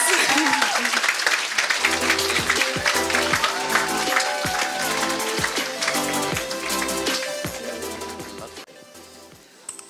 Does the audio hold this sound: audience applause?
yes